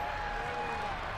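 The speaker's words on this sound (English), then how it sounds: "How about some applause for the defense there?" Stadium crowd applauding and cheering for the defense in a Madden football game, a steady wash of clapping and crowd noise across the short moment, with commentary talk over it.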